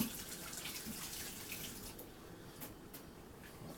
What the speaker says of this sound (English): I'm going to wash my hands off.